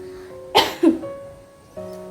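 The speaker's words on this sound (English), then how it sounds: "If you don't have a tissue, cough or sneeze into your elbow," One abrupt cough in two quick bursts, close and clear, with a quiet sustained tone playing underneath.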